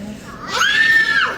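A toddler of about 32 months screams at an indoor animal café, one short, shrill, high-pitched shriek rising sharply and holding for about half a second, loud and close amid faint room noise.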